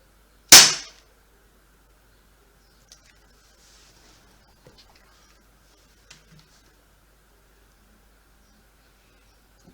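An airsoft gun fires a single sharp, loud shot through a chronograph, followed by several seconds of near silence with a few faint ticks and small knocks.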